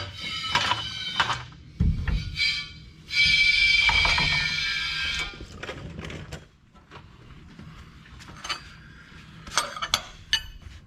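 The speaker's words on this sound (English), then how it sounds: "And what we'll do is we'll jack it up a little bit." A jack raises a Chevy Silverado, giving off repeated ratcheting clicks and metallic clinks at close range, with a sustained mechanical whine in the middle.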